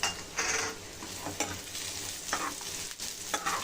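Cashews are tipped into a pan of frying cauliflower vegetable, with steady close sizzling broken by repeated scraping stirs of a spoon against the pan.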